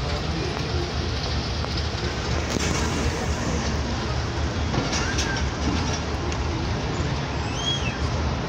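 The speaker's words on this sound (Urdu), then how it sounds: "یہ ریلیف ٹرین ہے ایمرجنسی کی" An emergency relief train passes near Multan on the line toward Khanewal Junction, giving a steady loud rumble with rail clatter that holds for the whole stretch. No one speaks over it.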